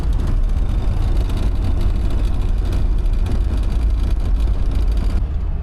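A UAZ vehicle's engine labours uphill in third gear at altitude, a loud, continuous low-pitched drone with a rough, throbbing texture heard from close by, steady throughout with no talking over it.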